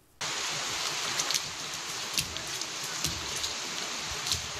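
Heavy rain pounds onto concrete in a steady, dense hiss that starts abruptly and continues unbroken, with scattered louder drop impacts and a faint low rumble beneath.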